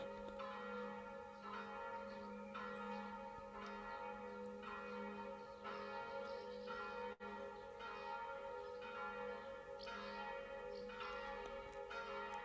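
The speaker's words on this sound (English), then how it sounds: "I think you can hear some bells now" Church bells ring in a steady, repeating pattern of evenly spaced strikes over a sustained hum, coming through fairly faint and distant for the whole stretch.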